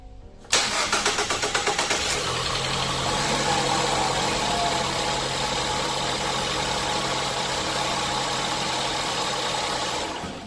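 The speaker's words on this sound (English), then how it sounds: "It cranks the first time, a couple turns over." A 2013 Ford Escape engine cranks with a quick run of rhythmic pulses, then catches and settles into a steady idle. It is close and loud, with no talking.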